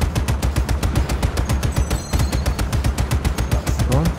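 A mounted turret in Just Cause 3 fires in a fast, evenly spaced stream of heavy, booming shots, loud and continuous throughout.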